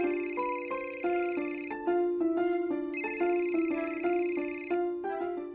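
Mobile phone ringtone chiming a repeating electronic melody of bright tonal notes, steady and clear in two phrases with nothing else over it.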